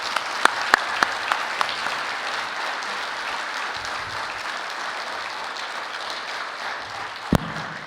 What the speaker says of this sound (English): I'd like you all to join me in a round of applause for Crit's career